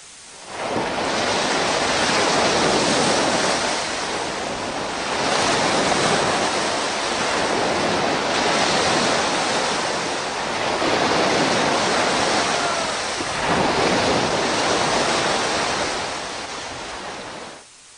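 Water flowing in the underground cellar of the Hazrat Ghazi Abbas Alamdar shrine, a steady loud rushing wash that swells and eases in slow surges, close and continuous with no voices.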